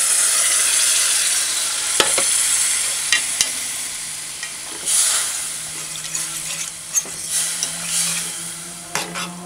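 Conch stock is poured into a pot of butter bean curry stew, splashing and sizzling with a clatter of the pot and utensil clinks, loud and close with no talk.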